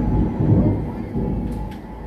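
A thunder crack from lightning in the Team Sonic Racing game sounds as a loud, deep rumbling roar that swells at the start and slowly fades over a couple of seconds, with no talking.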